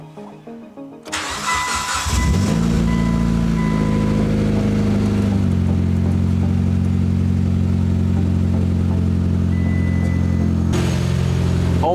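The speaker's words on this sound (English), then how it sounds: "We are going to try and start the car for the very first time." A rebuilt Mitsubishi Evo X engine cranks for a couple of seconds, then catches and fires on its first start, settling into a loud, steady idle with a brief change in pitch midway, heard close up with no talk.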